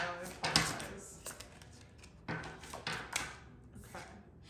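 Tarot cards shuffled by hand at close range: several brisk, papery riffling bursts with short pauses between them.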